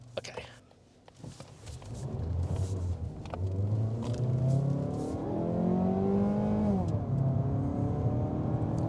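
A 2022 Mazda 3 with the base engine accelerates in sport mode, the hum climbing steadily in pitch through the gears, heard from inside the cabin with faint background noise.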